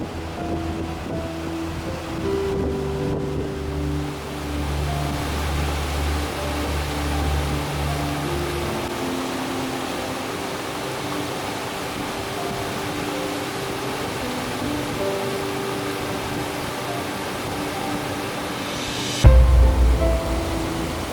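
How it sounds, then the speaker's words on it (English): The River Dane rushes steadily at Three Shires Head in the Peak District, a broad continuous hiss of flowing water with a low rumble early on and a brief thump near the end, with no talk. "The watercourse you see flowing through here is the River Dane"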